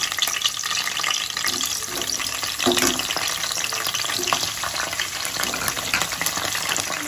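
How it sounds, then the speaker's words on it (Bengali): Onions and capsicum frying in oil in a pan, a steady close sizzle with bubbling crackle and occasional stirring scrapes, no speech over it. "আমি আগে এই যে পেঁয়াজগুলো আগে ভেজে নেব, ভেজে তুলে নেব। এই পেঁয়াজের সঙ্গে আমি ক্যাপসিকামটাও ভেজে নেব।"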